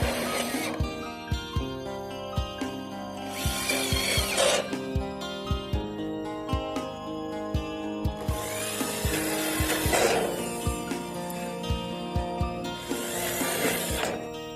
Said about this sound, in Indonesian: Untuk caranya tinggal kita baut sebanyak 4 titik di bagian kanan dan kiri.